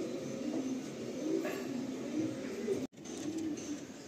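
Pigeons of the Andhra fulsira breed, kept in a loft, give soft low cooing that runs steadily through the clip, close and moderately loud, with no one talking.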